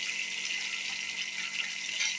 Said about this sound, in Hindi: 5 से 8 फीट तक ये पानी को ज़्यादा प्रेशर में निकाल देता है।